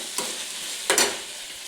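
Carrot pieces fry in a pan over medium heat with a steady soft sizzle, broken by two scraping stirs of a spoon, the second longer.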